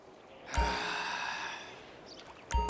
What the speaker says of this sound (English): Take in the air and release it. Breathe out, please.